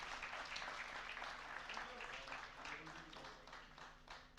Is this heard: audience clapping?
yes